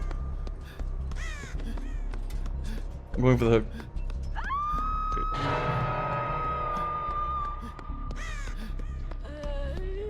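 Raven caws from the Dead by Daylight video game sound in scattered bursts alongside game noises, with a long tonal drone in the middle, while a player talks.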